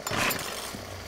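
A chainsaw revs in the zombie survival game 7 Days to Die, a brief, loud, buzzing mechanical snarl lasting about a second with no talk over it.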